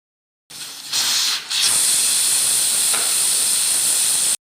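A pressure cooker of potato and fresh mutton curry lets off a loud, steady jet of steam hiss that starts abruptly, dips briefly near the start, then roars on continuously without a break.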